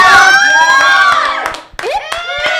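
A crowd at a Japanese variety show stage event, including guests outside, cheers and shouts loudly with some clapping after a portrait caricature is unveiled, bright excited voices swelling then briefly dipping before rising again.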